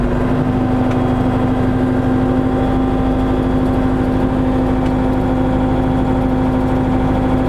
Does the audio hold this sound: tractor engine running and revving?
yes